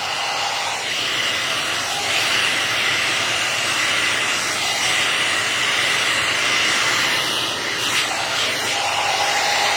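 A hair dryer used with a round brush blows with a steady, loud airy whir and hiss, running continuously up close without any speech.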